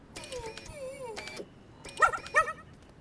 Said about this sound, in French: Arrête d'aboyer, reviens ici!